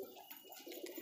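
Pigeons coo softly in a brief, faint burst of low, throaty calls.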